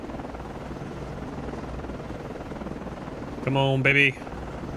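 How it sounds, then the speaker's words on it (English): Helicopter rotor and engine drone while landing on a ship's deck in the naval game Cold Waters, a steady mechanical hum with a brief louder tonal burst near the end as a voice speaks over it. "get this helicopter back on the deck"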